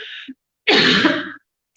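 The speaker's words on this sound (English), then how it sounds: "I need to cough, hold on." A brief throat sound, then one harsh, forceful cough close up, lasting about a second before silence.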